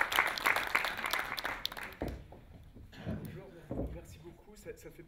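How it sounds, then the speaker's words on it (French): Audience applause at a project presentation, a dense burst of clapping that fades after about two seconds, followed by speech and a few scattered claps. "J'aimerais qu'on les applaudisse parce que vraiment c'est un magnifique projet."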